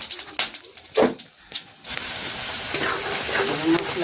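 Dried chilli, cinnamon, cardamom, cloves and cumin hit hot oil for a paneer curry: a few sharp clatters and stirring knocks, then a loud, steady sizzle that swells and holds to the end.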